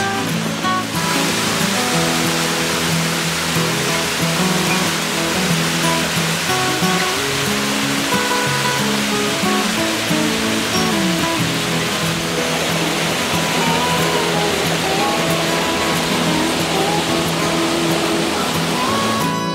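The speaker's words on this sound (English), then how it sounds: "we've made it to Sarrail Creek" Sarrail Creek rushes steadily in a mountain setting on a hiking trail, a loud, close and continuous roar of flowing water with no break and no talk.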